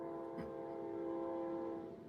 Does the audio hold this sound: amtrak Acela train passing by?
yes